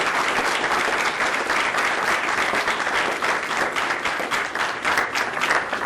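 A presentation audience gives a loud, dense round of applause that holds steady for the whole stretch, with no voices over it.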